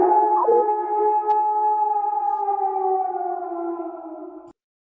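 A group of people howl together in imitation of a wolf pack, a loud sustained chorus of layered wailing voices that slowly falls in pitch over about four and a half seconds, then cuts off abruptly into silence.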